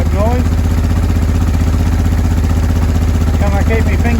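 A 2005 Honda Deauville NT650V engine runs at a steady idle, a close, loud, even throbbing hum that continues throughout.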